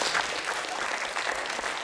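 Applause from a church congregation during a Sunday worship service, steady dense clapping filling the room for a short stretch.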